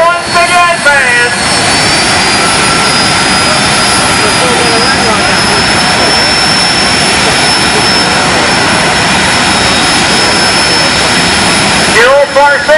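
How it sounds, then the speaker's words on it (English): A jet dragster's engine fires up at a night drag-racing event and roars loud and close, a dense, steady jet howl that holds for the full length, with a voice briefly audible at the start and end. "jet firing up once again, fans"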